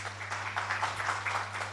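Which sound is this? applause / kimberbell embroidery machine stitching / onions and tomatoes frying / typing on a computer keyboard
applause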